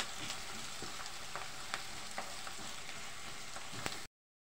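Finely sliced onion and green chillies frying in a pan: a steady, fairly quiet hiss of sizzling oil dotted with small pops and utensil ticks, stopping abruptly into silence.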